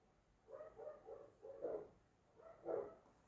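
Dogs bark outside, heard muffled from indoors, a series of faint, distant barks in three bursts over a few seconds.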